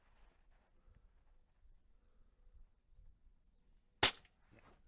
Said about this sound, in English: Can you dry fire it? Yeah, you can dry fire it.